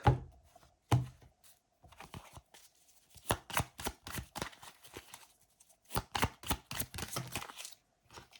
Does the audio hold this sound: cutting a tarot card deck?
yes